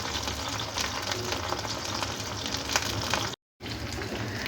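Dried salted hilsa fish fries in a pan, a steady moderate sizzle with soft crackles throughout, broken by a brief moment of silence near the end.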